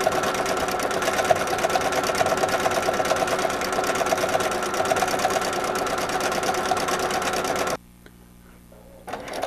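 A sewing machine runs steadily for several seconds, overstitching a scallop on a spring-themed zipper pouch with a fast, even mechanical rattle, then stops abruptly and leaves near silence with a faint stir at the end.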